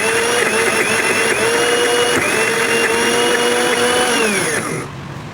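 Loud, continuous motor whine of a grand blender pureeing chilies into a smooth paste, holding steady for nearly five seconds with slight pitch dips, then stopping abruptly.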